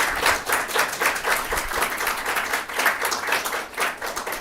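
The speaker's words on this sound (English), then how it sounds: "please all offer a big round of applause to Bridget for doing this." Audience clapping after a political speech at a policy event, dense and continuous, fairly close and even in level with no voices over it.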